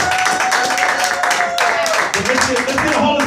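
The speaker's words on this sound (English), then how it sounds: "Give her a hand," Church congregation clapping for their pastor after a sermon, dense continuous applause layered with a voice speaking and organ-like sustained tones, loud and close throughout.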